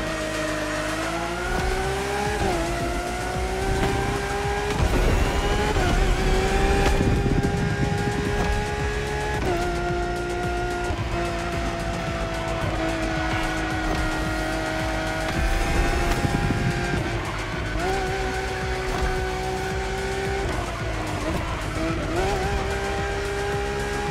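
A Lamborghini in the racing game The Crew Motorfest roars continuously at close range, its engine pitch climbing and dropping through repeated gear shifts. Tire squeals and skids sound during hard cornering throughout.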